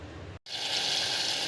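Raw mangoes simmer in a pot of water, giving a steady, bright bubbling hiss that starts just after a brief silent cut and stays level to the end.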